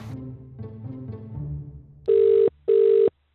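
Telephone tones on a call: a brief low murmur, then two loud, long electronic tone bursts separated by a short gap, ending in silence.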